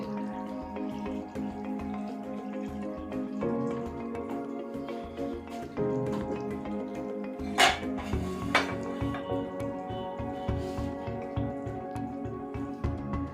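Chicken and tinda curry being served out of a cooking pot, with repeated metallic scraping and clinking of a ladle against the pot and dish, close by, including a couple of sharper clanks.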